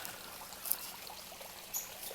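Water from a pump flows steadily into a koi pond, a soft continuous trickling rush with no talk over it.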